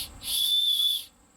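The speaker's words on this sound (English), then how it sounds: "That's about as good as the whistle's going to do for you" A single shrill blast from a survival whistle, close and loud, held steady for under a second before cutting off.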